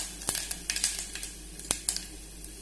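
Curry leaves drop into hot oil with mustard seeds in a pan, giving off soft crackles and scattered sharp pops, a few louder snaps standing out over a quiet sizzle.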